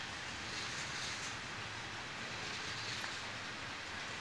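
A steady, dense rumble of a passing freight train with hopper cars, with faint rhythmic clatter, loud and continuous with no voices.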